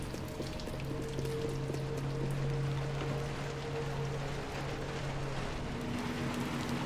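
Heavy rain in the video game Little Nightmares 2: a steady, dense downpour hisses throughout, with faint low sustained tones beneath it and no talking.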